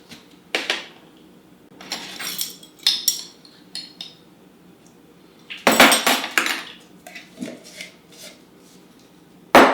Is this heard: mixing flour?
yes